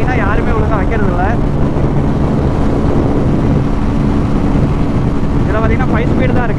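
Yamaha R15M BS6 and Bajaj Pulsar 220 BS6 motorcycles drag race, their engines revving up in rising whines through the gears, largely buried under heavy wind roar.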